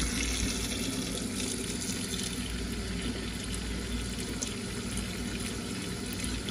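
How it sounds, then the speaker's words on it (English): Cold tap water runs steadily into a kitchen sink over an egg pod, a constant close rushing splash with no pauses and no voices. "you let it run under cold water for 2 minutes"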